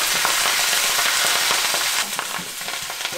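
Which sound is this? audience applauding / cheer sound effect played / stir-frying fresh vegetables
stir-frying fresh vegetables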